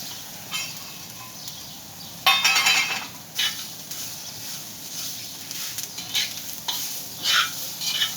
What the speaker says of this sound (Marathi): आपण यामध्ये हे खडे मसाले वापरतो आहे, त्यामुळे ते कच्चेच आहे. त्याला आपण थोडेसे यामध्ये थोडा वेळ भाजून घेणार आहे